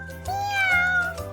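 A single drawn-out meow, close and loud, rising and then falling over about a second with nothing else around it; it may be a voice imitating a cat.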